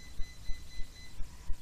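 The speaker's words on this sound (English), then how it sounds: "Ignore that, that's my alarm system." A home alarm system sounds faintly in the background, pulsing in an even rhythm of short repeated beeps over a thin, steady electronic tone.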